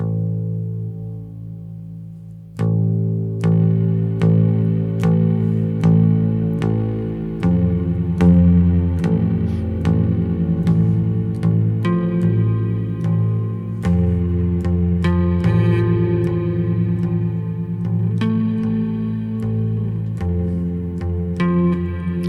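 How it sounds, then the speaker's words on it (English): A bass guitar plays a repeating line of plucked notes, each ringing out with a washy reverb tail, steady and moderately loud with no voices. "let's keep the reverb on the bass"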